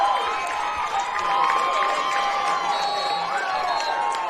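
A packed stadium crowd roars and cheers without letup after a touchdown at a varsity high school football game on senior night, with dense, loud crowd noise and scattered whistles and shouts.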